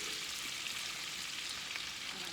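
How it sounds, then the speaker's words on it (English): Onions sauteing in a pan for beef bourguignon, a soft, continuous hiss of frying heard steadily and fairly quietly throughout, without speech. "Go ahead and put the onions in. And just kind of scoot them around till they're sauteed in that stuff."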